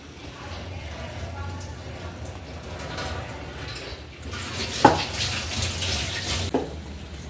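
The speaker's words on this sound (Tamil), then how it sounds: "தண்ணி வந்து வடிகட்டிடலாம்." Water pours and splashes steadily as cooked lentils are drained through a strainer into a sink, with a couple of sharp clinks partway through.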